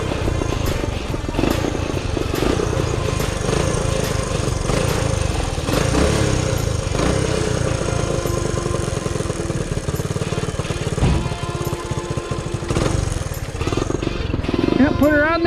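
A 1974 Honda Trail 90 barn-find motorcycle runs with a steady, loud, buzzing single-cylinder drone that continues throughout, with slight rises and dips in its pitch.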